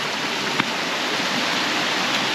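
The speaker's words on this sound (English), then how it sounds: "There's the water falling." Water pours down the Ocreza waterfall in a steady, dense rushing roar, loud and continuous from start to end with no voices over it.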